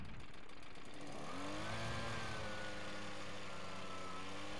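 An Au-niqueVac gold vacuum's small engine catches after a second or so of pull-start noise, then settles into a steady, close, loud running drone with rising tone.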